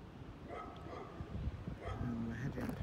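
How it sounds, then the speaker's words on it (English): Dogs on a farm bark and yip in short, fairly distant bursts, heard under people talking in the open air. "Just come through a farm. You can probably hear the dogs."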